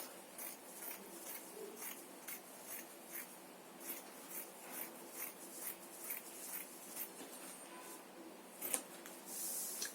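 Scissors snipping through fabric for a gathered skirt, a faint, steady run of soft rhythmic cuts and rustles close by, with no talk.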